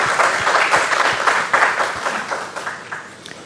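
Audience applause greeting the chief guest at an Urdu poetry book launch and conversation event, a dense steady patter of many hands filling the room for a few seconds.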